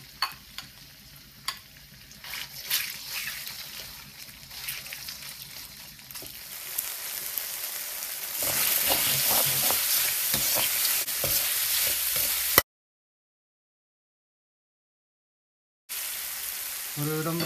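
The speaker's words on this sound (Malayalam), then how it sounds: "നമുക്കിനി ആദ്യം തന്നെ ചിക്കൻ വറുത്തെടുക്കാം" Steady crackling sizzle of chicken frying in vegetable oil in a hot pan, growing louder partway through, with occasional stirring scrapes and a brief silent gap near the end.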